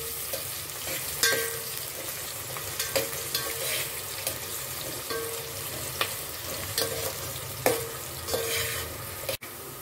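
Onions stirred and frying in a pot while making Hyderabadi chicken biryani at home, a steady sizzle with periodic scraping stir strokes, close and moderately loud, no voices.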